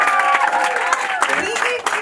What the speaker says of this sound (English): Can we give one more round of applause for Pat?